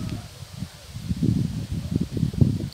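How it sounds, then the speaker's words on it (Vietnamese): Gusty winter wind swirls around roadside bushes and corn plants, rustling leaves and buffeting in uneven low surges that grow stronger through the second half, with no voices. "Xung quanh bụi cây gió nó quẩn."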